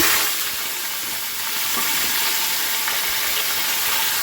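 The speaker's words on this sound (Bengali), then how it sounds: "দিয়ে দিলাম ফোড়ন" Whole spice tempering sizzling in hot oil, a loud steady hiss of frying that continues without break, close by, with no talk.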